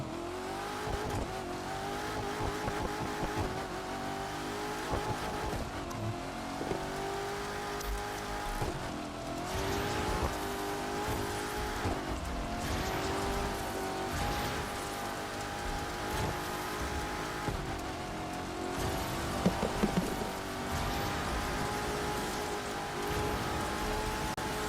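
Corvette C7 ZR1 Convertible in the racing game The Crew 2 on a top-speed run, its engine a loud, sustained high-rpm roar with shifting pitch, steady throughout with no talking.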